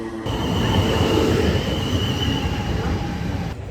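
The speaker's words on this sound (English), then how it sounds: "There's a train, so hopefully they are running." A train passes near the route of the Royal Parks Half Marathon in London, a loud sustained rumble with a faint high whine running steadily across the whole stretch.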